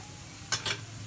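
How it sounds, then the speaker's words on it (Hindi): Chicken filling with soy sauce and chili sauce frying in a pan for a burger pizza recipe, two brief stirring scrapes with a sizzle close by over a low steady background hum, no talking. "सिर्फ हम इसे 1 से 2 मिनट भूनते हैं"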